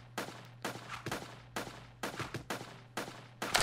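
Uzi machine gun fire in a survival video game, heard as about eight short, sharp bursts of rapid shots at a steady rhythm over a low electrical hum, with no voices.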